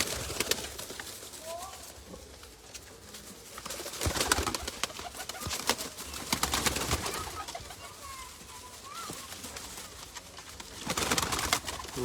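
Taddy pigeons for sale coo repeatedly at close range, with soft rolling calls rising and falling over twelve seconds while people talk in the background.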